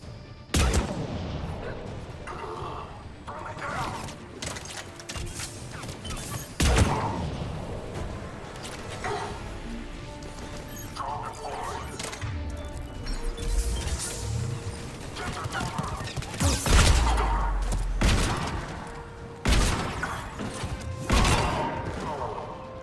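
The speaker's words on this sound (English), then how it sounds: "I'm gonna assume that's who was shooting at me." Gunfire and explosive blasts in the Mass Effect 3 video game, sharp loud bursts scattered irregularly among whooshes and rumbling battle noise, with music and effects underneath.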